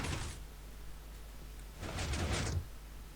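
A door in the Minecraft video game opens and closes with two brief clacks, the first at the start and the second a short burst a moment later, over a low steady hum.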